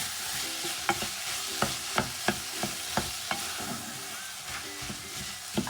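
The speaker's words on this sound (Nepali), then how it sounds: "अब चाहिँ छोपेर टमाटरलाई पाक्न दिने है त।" Tomatoes sizzle and fry in a pan for vegetable thukpa, a steady hiss broken by about a dozen sharp clinks and scrapes of stirring at irregular intervals, with no one talking.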